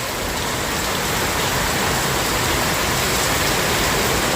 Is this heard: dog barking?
no